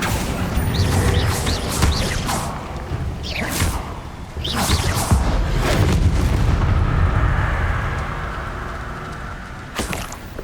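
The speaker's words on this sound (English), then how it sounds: "Bombarda." Booming magical blasts from a Bombarda spell in Hogwarts Legacy hit several times in succession, each with a whooshing tail, over a steady, dense layer of game ambience; no speech.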